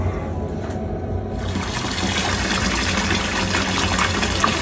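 Hot water gushing from a tap supplied by a Glow-worm Easicom3 28c combi boiler, a steady hissing rush that grows fuller and louder after a second, close and continuous with no talk.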